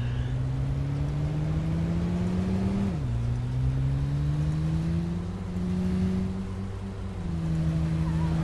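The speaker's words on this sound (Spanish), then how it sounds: "El coche en el que estoy está hecho polvo." Battered car engine droning steadily in the video game State of Decay, a low hum with a brief pitch dip as the car shifts, then climbing again, loud and continuous without talk.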